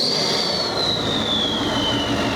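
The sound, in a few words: truck turbo spooling, 2020 KC Whistler turbo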